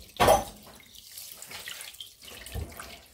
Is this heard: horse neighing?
no